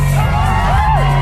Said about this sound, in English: Speakers blaring and people cheering, Portsmouth was giving runners an incredible reception.